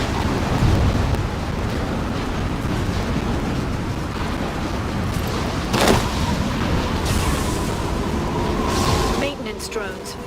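Thunderstorm in Mass Effect 2, a continuous roar of rain and rumbling thunder with a sharp crack midway and another near the end, under voiced dialogue.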